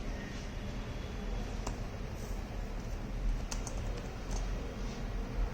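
Quiet, steady typing on a computer keyboard, soft key clicks tapping along over a low background hum.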